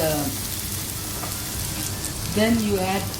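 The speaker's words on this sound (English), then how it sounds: "Now I am going to add ginger garlic." Ginger garlic paste sizzling as it drops into hot oil in a pan, a steady crackling fry with a brief louder burst near the end; a voice is faintly audible under it.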